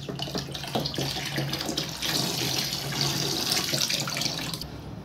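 Water gushes steadily from a pipe fitted to refill balloons for Holi, a continuous close splashing rush that lasts throughout without any talking.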